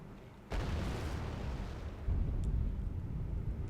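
Tank cannon fire from Wargame: Red Dragon, with Brennus and Leopard 2A5 tanks in a Second Korean War battle, two deep booming shots with rumbling tails over continuous battle noise.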